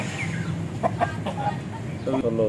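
A Thai breed rooster clucks and calls in short bursts close by, over a steady background murmur.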